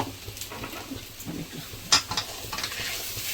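Taro root roast frying in a pan, a soft continuous sizzle with scraping stirring strokes and an occasional clink of a spoon against the metal, close and without talk.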